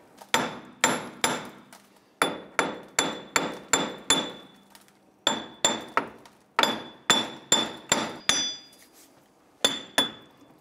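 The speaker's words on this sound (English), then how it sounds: "continue to tap around here until the hub separates from the knuckle" A hammer strikes around a Jeep Grand Cherokee wheel hub to knock it off the steering knuckle, giving sharp metallic blows with a ringing edge in quick bursts of three to six, loud and close.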